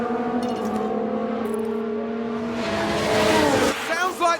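Race cars in the F1 Manager 22 racing game, set in a 1994 season, drone past with whining engine tones before a harsh burst of scraping, crunching contact noise swells and then cuts off.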